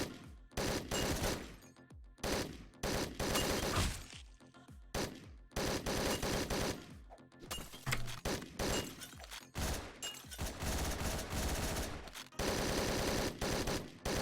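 Assault rifle gunfire in Hotline Miami 2, loud rapid bursts of automatic fire broken by short silences, with sharp shattering hits mixed in among repeated volleys.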